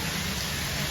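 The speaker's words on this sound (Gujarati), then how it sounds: "બહુ વરસાદ છે આમ જો કેટલું પાણી પડે" Heavy rain pours steadily and densely, a loud, unbroken hiss of falling water with no voices.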